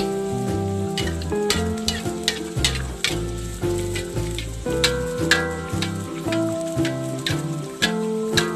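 Oil sizzles and crackles steadily as food fries, with a music track playing throughout and no one speaking.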